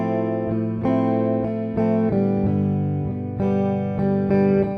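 Electric guitar run through an ADT automatic double tracking digital delay effect, playing a series of steady chords and notes with a doubled, slightly thickened tone, loud and continuous with no voice.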